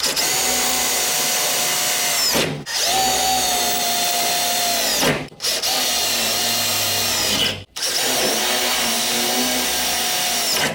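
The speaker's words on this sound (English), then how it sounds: "I need to drill out all of my factory plug welds." A power drill runs hard through factory plug welds on a 1973-79 Ford truck floor in three long bursts separated by short stops, its pitch shifting as each weld gives way.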